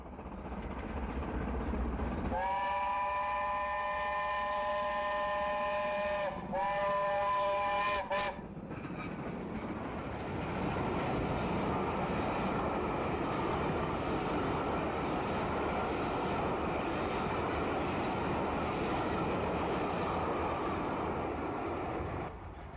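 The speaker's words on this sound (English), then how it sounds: "Britannia approaches Thetford on the Ely to Norwich line at speed." Britannia-class steam locomotive racing through Thetford on the Ely to Norwich line, its whistle sounding loud and steady for several seconds, then a second short burst, followed by the sustained roar and rumble of the train passing close by.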